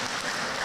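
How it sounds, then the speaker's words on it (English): Applause from an audience at an educators' forum, a brief, steady patter of many hands clapping together, fairly faint and distant. "May we give them another round of applause."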